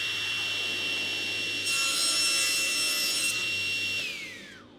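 A saw cuts small pieces from 12mm plywood against an adjustable stop, a steady close whirring and rasping drone with a high whine that rises in the middle and then trails off as the blade slows.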